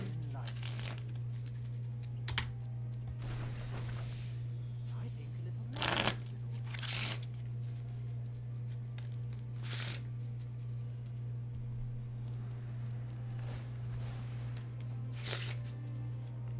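A deck of cards is shuffled and riffled in repeated bursts of papery crinkling and flicking, close and fairly quiet over a steady low hum.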